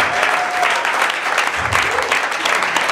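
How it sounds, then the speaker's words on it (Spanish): A church congregation at a prayer house gives a loud, sustained round of applause, dense and continuous throughout, with voices mixed faintly into the clapping. "Ahora sí, denle un aplauso fuerte"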